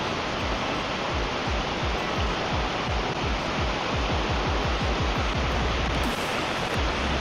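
A small forest waterfall in Malappuram pours in a steady, dense rush of falling water, loud and close, broad hissing roar with a low churning undertone throughout.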